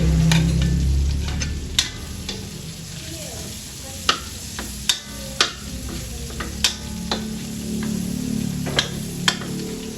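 Garlic and onions sizzle steadily in a pan for pancit, with the spatula clacking against the pan at irregular intervals. A faint voice is heard briefly at the start.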